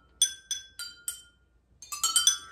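A pencil taps a water-filled glass used as a water xylophone: four bright, ringing clinks at an even pace, a short pause, then a quicker run of five or six tinkling strikes, each ringing briefly.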